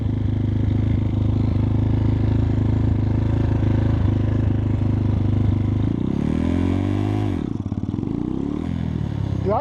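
A 2021 X-Pro Titan 250cc dirt bike engine runs loud and close, a steady throbbing idle that swells into revving with rising and falling pitch near the end, no talk over it.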